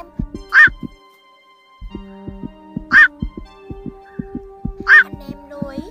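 A night heron (vạc) gives three loud, harsh calls about two seconds apart, each standing out clearly over quieter rhythmic tapping in the background.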